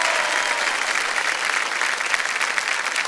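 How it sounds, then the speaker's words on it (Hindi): Studio audience on a televised quiz show gives a loud, dense, continuous round of applause, sustained evenly throughout with no talking. "जोरदार तालियां बज जाए इनके लिए।"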